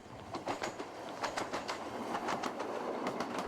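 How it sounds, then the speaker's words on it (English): A train rolling past a user-worked farm level crossing, a steady rumble with rhythmic clickety-clack from the wheels, moderately near, with birds faintly audible. "Now that a train has passed,"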